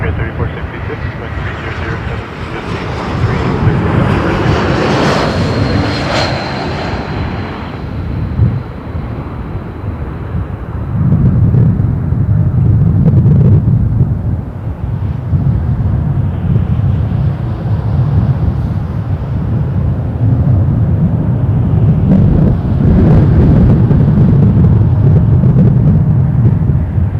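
An airliner lands at Toronto Pearson Airport, its broad engine roar and rushing wind building and swelling steadily throughout, with radio voices talking over it.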